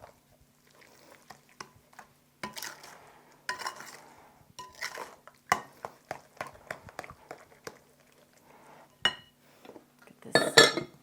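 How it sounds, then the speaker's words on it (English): Rice pudding ingredients with nutmeg are stirred in a bowl, giving irregular scraping clinks and taps of a utensil against the dish at close range, with quiet gaps and a louder clatter near the end. "we'll mix all this together"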